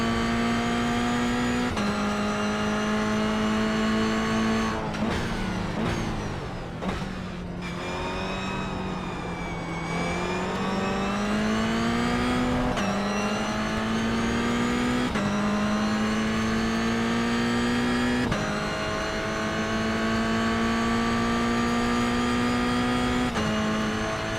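Race cars at the Spa circuit, BMWs among them, roar continuously at full throttle with a steady loud engine drone, brief downshifts and revving around corners, and shifting pitch as the car accelerates out of turns.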